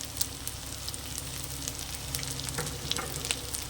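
Garlic and ground spices (salt, turmeric, chili powder, Kashmiri chili powder and coriander powder) fry in a pan for a Bengali prawn dish, giving a steady close sizzle with small crackles and stirring scrapes, no talk.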